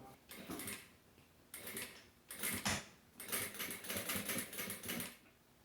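A sewing machine topstitches the binding on a zipper pouch in several bursts of rapid needle clatter, close and separated by brief pauses, with no speech.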